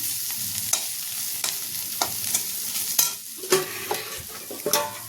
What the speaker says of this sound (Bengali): আর এখানে আছে আলু, কুমড়ো আর উচ্ছে, বরবটি, এইটা ভাজা করছি